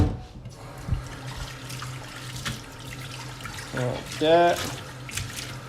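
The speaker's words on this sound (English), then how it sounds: "And now I will just do a quick rinse to this thing." Tap water runs briefly at a kitchen sink while a pastry utensil is rinsed during fraisier and crème pâtissière preparation, a soft splashing burst near the end after quiet kitchen noise, with a voice speaking briefly.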